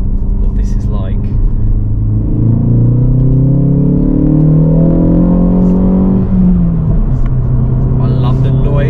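2023 Ford Focus ST Track Pack M365 in sport mode, a loud close engine climbing steadily through the revs in a rising drone, dropping sharply as the gear changes, then pulling again; voices talk briefly over it.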